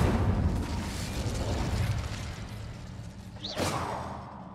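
An Incendio fire spell is cast in the video game Hogwarts Legacy: a broad, rushing roar of flame that fades slowly, then a brief bright whooshing burst near the end, with no voices.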